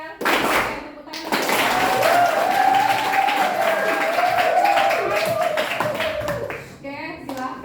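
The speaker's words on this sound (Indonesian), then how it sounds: "Tepuk tangan." Classroom of children clapping their hands together in a dense, loud burst that starts after a short pause, with a sustained voice running through it and tapering off near the end.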